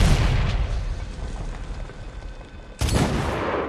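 Gunfire and explosions from the Medal of Honor video game during a mortar-team firefight, a dense rumbling barrage that sustains, dips, then surges again with a sharp loud burst near the end.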